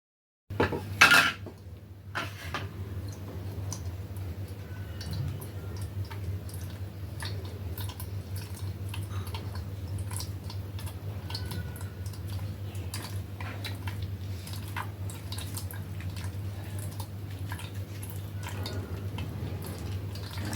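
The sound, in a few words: straining blended coriander stem mixture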